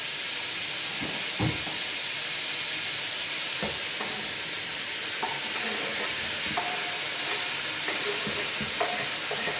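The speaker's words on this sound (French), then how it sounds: "on va ajouter déjà les champignons" Mushrooms dropped into a hot pan of browning turkey pieces for a turkey blanquette, a steady close sizzle with occasional stirring scrapes and small pops throughout.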